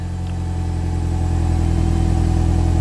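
A Mini Cooper engine runs steadily, its exhaust note a constant low droning hum with a slight rise in level partway through, close and continuous without any talk.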